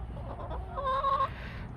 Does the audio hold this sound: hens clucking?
yes